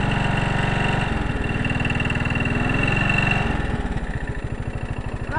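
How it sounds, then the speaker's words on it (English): A small engine idles smoothly and steadily after a carburetor adjustment, with the idle screw backed out about four turns; a close, even, continuous putter throughout. "So I just backed it out about 4 turns and it idles perfect now."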